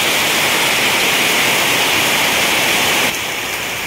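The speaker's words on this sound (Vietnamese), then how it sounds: "mưa tới luôn rồi, mưa tầm tã luôn rồi." Heavy rain pours steadily as a dense, loud hiss that fills the whole clip, dropping slightly in level near the end but never pausing.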